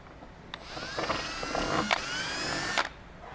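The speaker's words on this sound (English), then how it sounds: "go ahead and drill your first hole for this side" A power drill bores a rivet hole through the rear spoiler of a Camaro drag wing install, a high rising whine that runs for about two seconds, close and alone, with sharp clicks at its start and finish.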